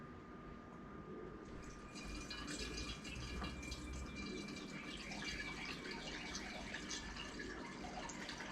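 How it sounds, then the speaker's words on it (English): Yeast liquid, the top layer of a washed yeast batch, is poured off into a sterilized mason jar, giving a quiet, steady trickle and splash that runs throughout, with no talking. "We're just gonna pour off that top layer"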